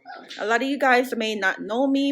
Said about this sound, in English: You could hear my dog in the background.